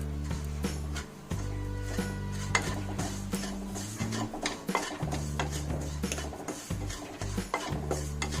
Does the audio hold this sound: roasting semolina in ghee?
yes